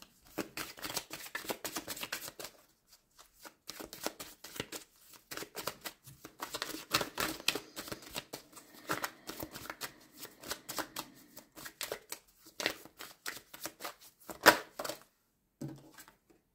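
Playing cards shuffled by hand during a card reading: repeated close, crisp riffling bursts with brief pauses between them, and no voices.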